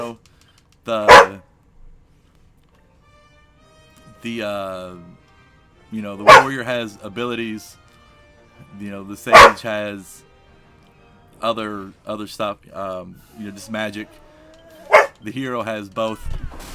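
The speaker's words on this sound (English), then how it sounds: "sorry for the dog barking" A dog barks loudly in sharp bursts, a few times, near the microphone, while someone speaks calmly between and over the barks.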